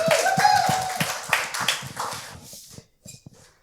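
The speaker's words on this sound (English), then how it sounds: "Round of applause for Jason" Applause for a panelist at a live fintech conference event, a dense burst of clapping from the room that thins out and fades to a few scattered claps by the end.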